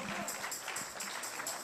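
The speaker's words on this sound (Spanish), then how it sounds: "¿Cuánto le dan un aplauso al Señor?" A church congregation claps in a quick, steady patter of applause, faint and distant, with no talking over it.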